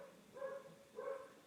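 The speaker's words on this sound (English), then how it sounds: "Woof, woof. That's my neighbor's dog." A neighbor's dog barks twice at a distance, two short muffled barks about half a second apart, with no talking over them.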